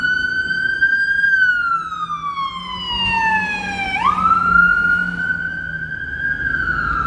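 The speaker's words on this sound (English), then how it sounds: "Oh, no, that's an ambulance." An ambulance siren wails loud and close on a city street, its rising and falling tone sweeping down and back up over a low engine rumble as it passes by.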